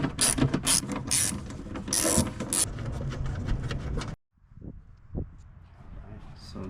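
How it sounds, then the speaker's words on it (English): A ratchet clicks rapidly in close bursts while tightening bolts on the metal base trim of a Toyota V6 engine, followed after a brief silence by a few quieter isolated clicks and taps. "carefully putting back this metal base trim and tightening down the bolts"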